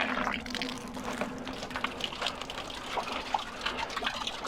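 Water gushes and splashes from a pressurised pipe on a narrowboat after a shower leak, a fairly faint, continuous liquid rush with small irregular splashes and drips, close by and with no talk over it.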